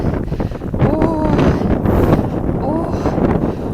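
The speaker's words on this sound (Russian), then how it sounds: "Очень ветрено. Прям вообще сдувает." Steady wind buffets the microphone in a constant low roar on the seashore of Daebudo Island, South Korea, with a voice talking over it throughout.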